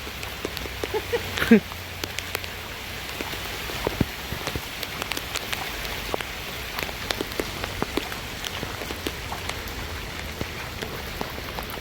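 Steady rain patters on surfaces throughout, a dense close hiss of drops with occasional louder splashes and a brief voice early on.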